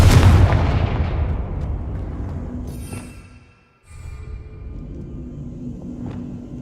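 A Confringo fire blast spell in Hogwarts Legacy erupts in a loud, booming explosion that rumbles and decays over several seconds, briefly dips to near silence, then gives way to a steady low rumble.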